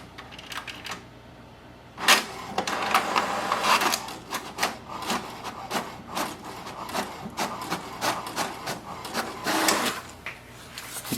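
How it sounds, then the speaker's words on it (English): An HP DeskJet 4300 inkjet printer prints an information report, with its mechanism whirring and clacking in a steady rhythm of rapid bursts after a quieter start, close up with no voices. "Now to print the password of the printer, press the information button"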